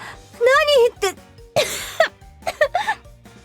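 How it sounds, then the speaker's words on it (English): Anime character coughing hard after spitting out tea, a run of harsh close coughs and throat-clearing bursts mixed with strained vocal sounds. "Nagomi spat out her tea and went into a coughing fit"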